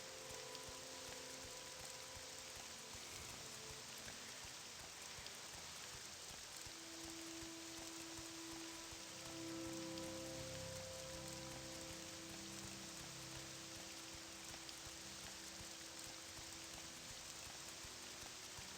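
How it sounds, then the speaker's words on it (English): Steady hiss of rain-like noise from the rain effect in the video game The Elder Scrolls III: Morrowind runs throughout, with faint tonal hum and a low rumble swelling midway; no voices. "Gotta love old rain effects."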